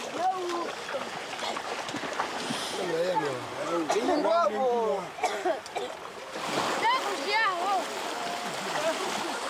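Water splashes and sloshes in a river as elders wash initiate boys, heard under several loud voices and excited cries.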